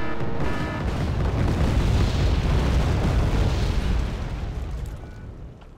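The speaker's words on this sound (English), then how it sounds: "this Mi-24V that's firing HGMs at my Challenger 1s" Helicopter-fired missiles blasting tanks in Wargame: Airland Battle, a loud, dense rumbling of overlapping explosions that swells and holds for several seconds before easing off.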